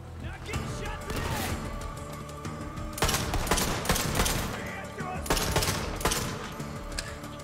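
Rapid bursts of automatic gunfire in the video game Borderlands 3, sustained rattling volleys with louder clusters, dense and continuous under a voice talking.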